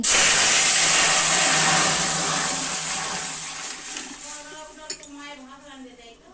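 Hot panch phoron tempering poured into vegetarian mango dal bursts into a loud, steady sizzling hiss that slowly fades over several seconds, with a faint voice and a light clink near the end.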